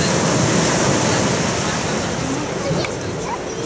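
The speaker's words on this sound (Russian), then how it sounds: "Мама у меня катается на волнах" Sea waves breaking on a beach in Adler in the evening: a loud, steady wash of surf with some wind buffeting the microphone and faint voices in the background.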